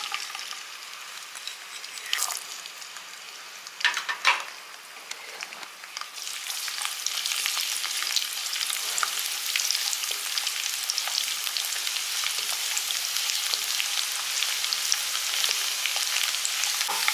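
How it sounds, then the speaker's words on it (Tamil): Chopped garlic fries in sesame oil, a steady bright sizzle that swells after a few quieter seconds with occasional stirring knocks, heard alone. "வெள்ளைப்பூடு வந்து இந்த அளவுக்கு செவக்கணும்"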